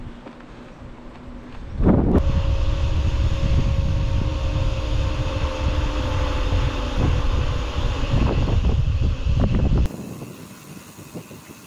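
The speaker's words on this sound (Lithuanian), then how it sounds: "Biški prieš vėją 15 metrų per sekundę." A strong wind of about 15 metres per second, somewhere in Spain, roars loudly and steadily into the microphone for most of the stretch, then drops away sharply near the end.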